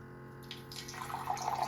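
Room-temperature water pours from an Osmo Fresh Fusion Air reverse osmosis filter, starting after a faint hum and building into a steady splashing stream into a glass.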